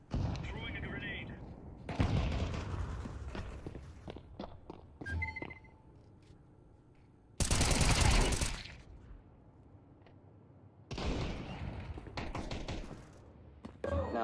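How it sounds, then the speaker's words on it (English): Grenade throw and gunfire in a video game, with loud bursts of rapid shooting and blasts separated by quieter stretches of footsteps and movement. "Throwing a grenade."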